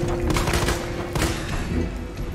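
Rapid gunfire from Resident Evil 2 Remake gameplay, a dense burst of shots with thuds and crashes running continuously and loudly through the whole stretch, with no speech over it.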